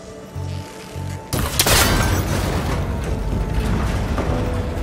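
A single loud gunshot in a video game, fired at a cable connector on an old, rickety tower, followed by a sustained rumbling crash and debris clatter.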